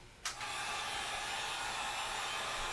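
A heat gun, used on a leaky tub faucet repair, switches on with a click and then blows a steady loud airy roar like a powerful blow dryer, close and continuous.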